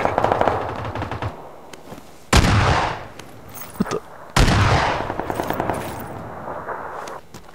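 Rapid automatic gunfire in an online shooter game, with long rattling bursts and two sharp loud volleys, sustained and close throughout, with no talk over it.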